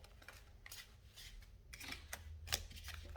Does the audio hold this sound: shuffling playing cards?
yes